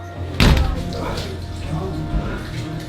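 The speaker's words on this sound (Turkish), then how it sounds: "istirahat odasına alırken kapıyı yüzüme kapatıyor" A door is shut in someone's face in a hot hospital corridor outside a rest room, giving one loud thud near the start, followed by a low rumbling room background.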